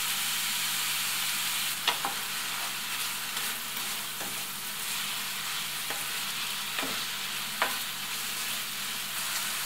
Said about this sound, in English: do a little bit more frying. I think I need more vegetable oil, so I add a little bit more.